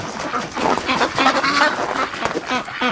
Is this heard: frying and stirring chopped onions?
no